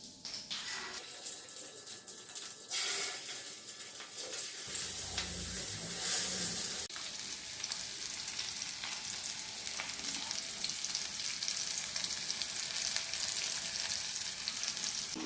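Marinated fish pieces fry in hot oil in a pan over medium-high heat, giving a close, steady sizzle with brief stirring and clatter near the start.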